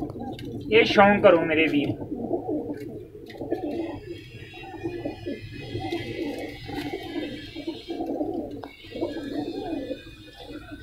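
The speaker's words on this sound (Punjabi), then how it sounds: "ਇਹ ਕਬੂਤਰ ਤੁਹਾਨੂੰ ਦਿਖਾ ਦਈਏ" Pigeons coo softly in a loft, repeated low throaty calls in a steady rhythm, while someone talks over them near the start.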